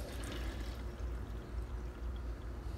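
Water running from a Kangen K8 water machine during a deep-clean rinse cycle, a soft steady pour and trickle with low rumbling flow, fairly quiet and continuous without talk.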